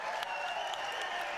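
A large crowd at a political event claps and cheers in a dense, steady roar of applause that holds loud and continuous, then cuts off abruptly.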